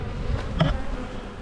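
A swarm of honeybees buzzes steadily close by, one brief louder pass rising above the continuous drone, with no voices.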